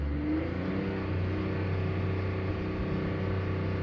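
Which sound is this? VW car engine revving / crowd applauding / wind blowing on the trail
VW car engine revving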